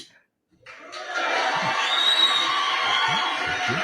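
A soundboard crowd-cheering effect rises after a brief quiet start, sustained cheers and whoops holding steady and fairly loud to the end, with a few lower voices mixed in.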